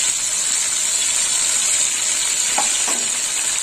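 Spices sizzling steadily in hot oil for aloo posto as red chilli powder is stirred in, a close, loud, even frying hiss with a couple of faint scrapes near the end.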